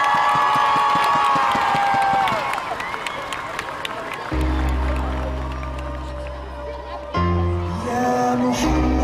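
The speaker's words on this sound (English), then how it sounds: "je veux un tonnerre d'applaudissements pour Shamsuddin" Crowd applause and cheering for Shamsuddin at the Sounds Of Light 2015 event in Paris, loud and dense at first, then giving way to sustained music and voices.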